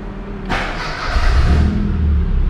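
A Mini car engine is cranked with a sharp burst of starter noise, then catches and builds into a loud, steady low engine note close by, with no voices.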